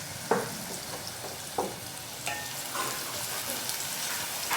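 Onion frying in oil over a high flame for egg bhurji rice, a steady close sizzle broken by a few sharp scraping stirs.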